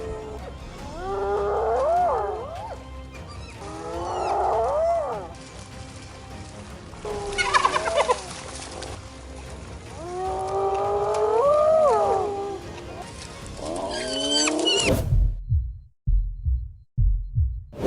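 Hyenas feeding on prey in the wild, with rising whooping and moaning calls, growls and squabbling noises in repeated bursts, ending in abrupt thumps and rustling.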